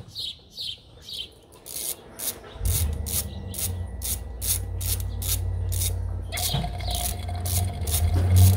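Ratchet removing bolts from the water pump of a 2006 Jeep LJ Rubicon with a 4.0L engine, rapid close clicking strokes over a low rumble, with scraping at the start.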